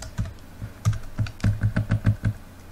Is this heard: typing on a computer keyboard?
yes